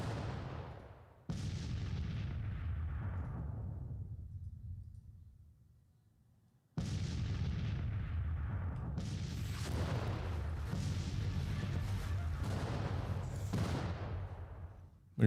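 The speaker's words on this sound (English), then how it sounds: "we've got 4 batteries of artillery in action here" Several artillery batteries fire in the Civil War strategy game Grand Tactician, heavy booming salvos rolling one after another, with a quiet gap midway before dense overlapping cannon fire resumes.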